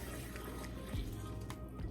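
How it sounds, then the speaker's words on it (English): Dirty, brown sponge-rinse water from cleaning makeup beauty blenders poured down a sink drain: a steady close splashing wash of running liquid with a few gurgling swells, no voices. "I'm going to pour that right down the drain also."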